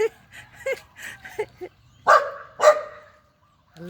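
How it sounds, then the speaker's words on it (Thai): A dog barks twice loudly and close, with a few softer yips and whimpers before, over a low background hum. "มาเห่าเลย มาเห่าเลย"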